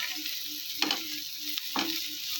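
Ground spices (chilli, coriander and garam masala powders) fry in a pan for egg curry, giving a steady close sizzle with two brief scraping stirs.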